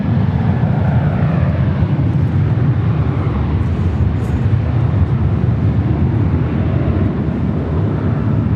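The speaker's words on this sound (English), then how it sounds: "Southern Cargo 777 landing here on the north side" A Boeing 777 cargo plane lands at LAX, a steady, heavy jet engine roar with deep low rumble that holds loud and constant throughout.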